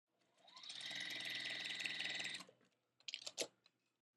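A sewing machine stitches a quilt block seam in one fast, whirring run of about two seconds, followed by a few quieter mechanical clicks and clatters; no one speaks.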